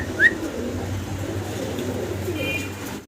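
Young pigeons kept for breeding give soft, low coos against a faint background murmur, with a brief higher chirp near the start.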